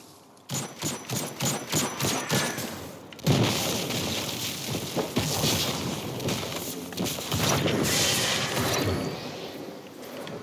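Rapid bursts of Tractor Cannon weapon fire in Destiny 2, rhythmic at first, then a heavy boom and a dense continuous barrage of blasts and rumble.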